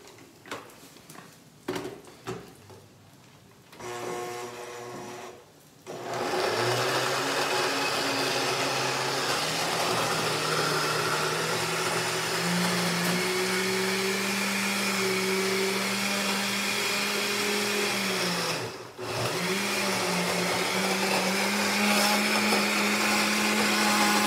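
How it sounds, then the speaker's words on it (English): A blender purées raw cashews with olive oil into a ranch dressing, starting after a few seconds of clatter and running as a loud, steady whir whose motor pitch shifts as it works, pausing briefly near the end before resuming. "let's start blending and see what this yields us"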